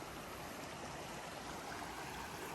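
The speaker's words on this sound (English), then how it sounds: "This is the river." River water flows in a soft, continuous rush, a quiet and even stream of sound with no breaks or voices.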